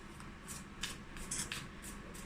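Rapid papery riffling bursts, about six of them in a quick uneven rhythm, close by and fairly soft, like cards being shuffled over and over.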